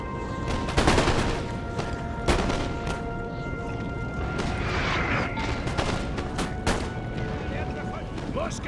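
Musket volleys and artillery fire from a Napoleon: Total War battle, with a dense, continuous crackle of massed gunshots and occasional heavier booms rolling under a steady battlefield din.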